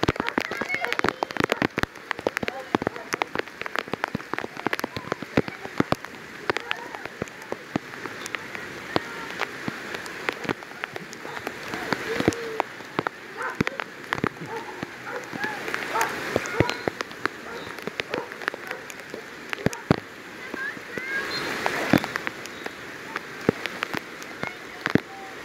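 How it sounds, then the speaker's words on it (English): Heavy rain pours down at an outdoor water park, a dense steady patter of drops on surfaces with scattered louder splats throughout, fairly close and continuous. "It's raining like crazy."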